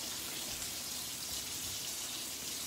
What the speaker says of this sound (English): Let me turn the water on.